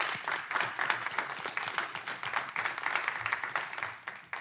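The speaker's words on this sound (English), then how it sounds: "Give her a round of applause," A council meeting audience applauds, dense overlapping clapping at a fairly faint, distant level, sustained evenly for several seconds.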